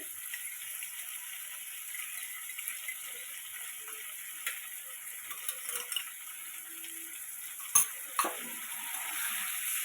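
Cumin paste and onion fry quietly in a pan while being stirred, with a faint, steady sizzle and a few soft clicks and scrapes of the spoon.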